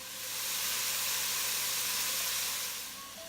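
Sausage, carrots, onion and celery sizzle in a soup pot over medium heat, a steady broad hiss holding at an even level for the whole stretch with no voices.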